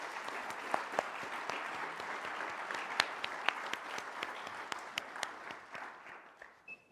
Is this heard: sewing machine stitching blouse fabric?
no